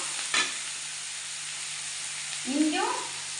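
Ginger sizzles faintly in hot oil for a white kurma, a soft steady hiss with two brief louder bursts of stirring or sputtering near the start and end.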